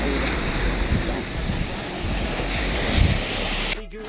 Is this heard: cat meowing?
no